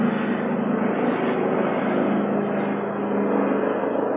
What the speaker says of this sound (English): That's a helicopter. Somebody's searching for something.